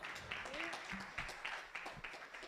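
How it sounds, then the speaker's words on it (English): A conference audience gives a short round of applause, scattered claps that are fairly quiet, with a voice speaking over them. "So a round of applause for her."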